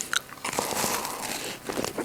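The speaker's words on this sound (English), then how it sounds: "You hear that crunch?" A cookie is bitten raw, giving a close, crisp crunch followed by a few seconds of dry chewing, loud against a quiet background.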